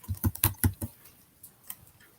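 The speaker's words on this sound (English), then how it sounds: "Somebody's typing." Keys clatter on a computer keyboard in a short burst of about five quick strokes, then two faint isolated taps, fairly close and alone.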